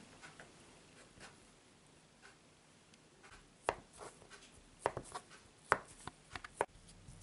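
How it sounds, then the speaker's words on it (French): A knife slicing through a rolled log of chocolate marble cake dough, soft scraping followed by several sharp taps against the cutting board, faint and close, with no talking. "On coupe la pâte de cette épaisseur environ."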